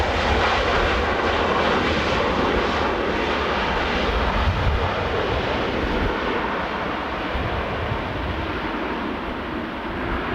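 A Ryanair jet landing at Dublin Airport in a crosswind gives a loud, steady, close engine roar that fills the whole stretch and eases off only slightly near the end.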